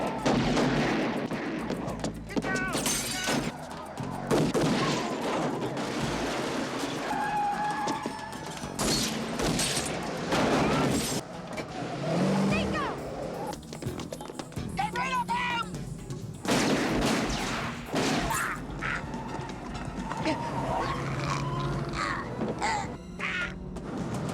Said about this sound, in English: Nico rushes in, sparking a brutal gunfight.